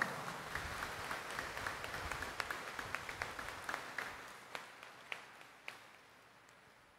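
Congregation applause at a Friday Catholic mass in Quiapo Church, Manila, honoring the Black Nazarene: a dense, moderately distant wash of clapping that thins into scattered individual claps and fades out.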